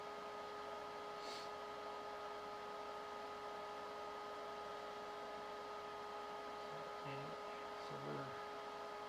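An electric motor with no regen set up in its controller runs with a faint, steady whirring hum and a thin tonal whine, quiet and unchanging throughout.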